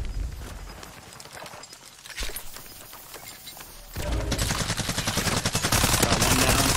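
Automatic gunfire from Call of Duty: Warzone, including Vector and MP5 submachine guns, plays as dense rapid bursts that build louder toward the end. Game effects fill the background, and there is no talk.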